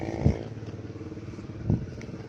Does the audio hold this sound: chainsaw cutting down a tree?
no